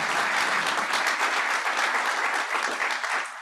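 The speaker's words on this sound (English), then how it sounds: "So I want a round of applause for the AIA East Bay chapter" Applause for the AIA East Bay chapter at a design awards ceremony: a dense, steady round of clapping from a large audience, loud and continuous throughout, with no talk over it.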